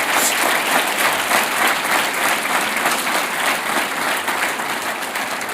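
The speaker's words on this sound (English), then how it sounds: "Vucic, President of the Republic of Serbia, please, a warm applause again." Dense, continuous applause from a large audience at a formal event honouring the President of Serbia, a loud, steady wash of clapping with no speech over it.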